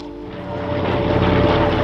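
B-25 Mitchell bomber droning overhead at an airshow, steady propeller engine hum swelling slightly louder over the brief moment, no talk.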